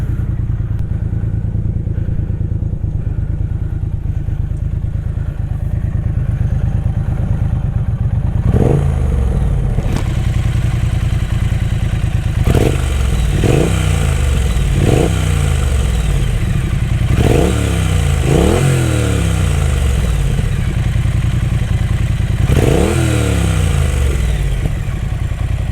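A 2020 Triumph Bonneville Street Twin motorcycle idles with a steady, smooth rumble, then is blipped through a series of short, sharp revs that rise and fall back, close and loud with no talk.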